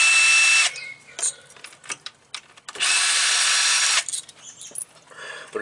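A power tool backs out ignition coil bolts on a 2005 Mazda Tribute 3.0L V6, giving two whirring bursts of a few seconds each, separated by clicks, clanks and handling noises close by.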